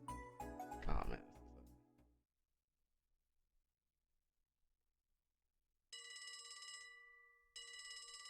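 A telephone rings in the video game Trails to Azure, with two loud electronic bursts separated by a brief gap after a stretch of silence, preceded by other game sound.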